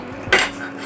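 A metal spoon taps once against a small bowl, a single bright clink with a short ringing tail, set up for a simple salt-water-in-plastic science demonstration.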